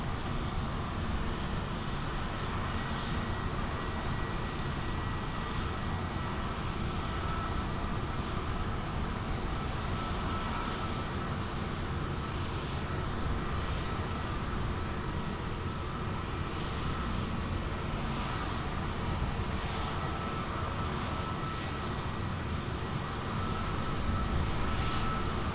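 An airplane landing on runway 20 at Lisbon Airport, heard as a steady, broad engine roar that holds evenly for the whole stretch with no voices.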